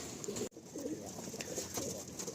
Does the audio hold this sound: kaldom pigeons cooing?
yes